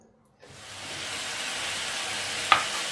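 Chopped button mushrooms sizzling in hot oil in a pan, a steady close frying hiss that builds after a short silence and carries on alone, with one brief sharp pop near the end.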